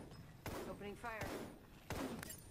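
Gunfire in a ranked shooter video game, a few sharp broadband shots spaced apart over a couple of seconds, moderately loud, with a voice and game chatter around them.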